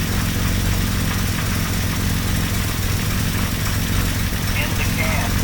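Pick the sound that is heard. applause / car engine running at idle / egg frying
car engine running at idle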